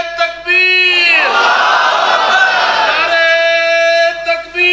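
A large crowd chants slogans at a religious speech gathering, a leader's drawn-out call followed by a loud massed unison roar lasting about two seconds, then the lone voice returns.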